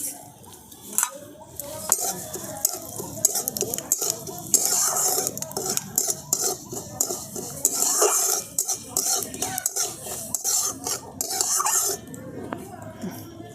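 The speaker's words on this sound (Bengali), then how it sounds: "দেখুন সরষেটা চটপটাতে শুরু করে দিয়েছে" Mustard seeds splutter in hot oil for a long stretch, making irregular crackles and sharp pops over a sizzling bed. Occasional clinks of a utensil on the pan are mixed in, close by.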